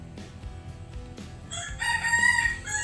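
A rooster crows once, loud and shrill, rising over a busy background of other birds and low outdoor murmur, heard during a coastal dive outing.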